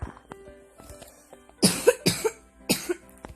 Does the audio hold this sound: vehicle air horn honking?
no